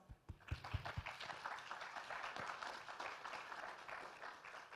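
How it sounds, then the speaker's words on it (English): A conference audience at an early-stage investment panel breaks into faint, distant applause, a steady patter of many hands clapping that carries on for several seconds with no voices over it. "A huge round of applause."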